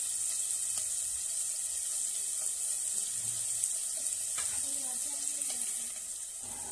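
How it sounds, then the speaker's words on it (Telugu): Salted ingredients fry in a pan on a home stove, giving a steady, even sizzling hiss throughout, with faint occasional voice and light stirring underneath. "కొంచెం అలా ఫ్రై అయిపోవాలి ఇవి."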